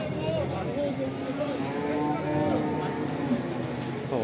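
Cattle at a village livestock market lowing repeatedly in drawn-out moos, near and fairly loud, over crowd murmur and background talk.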